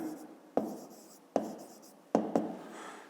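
A pen scratches across paper while a child's maths exercise on units of length is written out, with soft continuous strokes broken by a few sharp taps as the pen lifts and lands, close and quiet with no talk.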